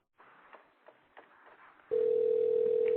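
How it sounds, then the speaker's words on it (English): Faint murmuring gives way to a steady, loud electronic telephone tone that holds unbroken to the end. "Phone's ringing."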